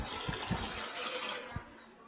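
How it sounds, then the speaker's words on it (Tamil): Water poured over washed, soaked toor dal in a bowl, a short close splashing trickle with a few soft knocks, fading near the end. "வாஷ் பண்ணிவிட்டு இதில் அந்த துவரை மூழ்கிற அளவுக்கு தண்ணி ஊற்றிக்கலாம்"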